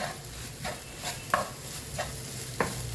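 Okra pieces being stirred with salt in a hot pan, a steady soft sizzle broken by several sharp scraping strokes of the spoon at irregular intervals, close and fairly quiet with no talking.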